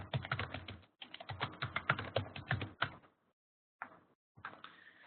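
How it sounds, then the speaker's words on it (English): Someone types an email address on a computer keyboard in quick close clicking bursts. Brief pauses break the run of keystrokes before a few more taps. "I'm going to type my email address on chat."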